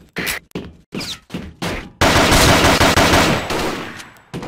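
Rapid video game gunfire: several short separate bursts, then a loud, dense sustained volley of shots that gradually fades, heard alone with no talking.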